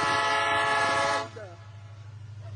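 A train horn blares loud and steady with strong harmonic tones for just over a second, then cuts off, leaving low rumbling rail noise and faint sounds.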